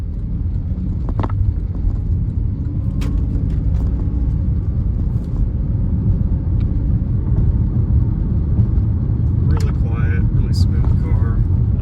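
A Porsche Panamera 4S drives on the road, a steady low engine and road rumble running throughout, while people talk over it.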